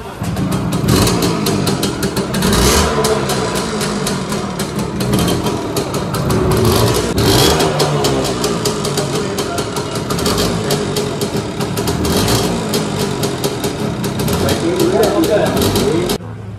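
A 27-year-old Hero Puch motorcycle engine chugs and revs loudly with uneven, sputtering small-engine pulses, running throughout beneath someone talking over it.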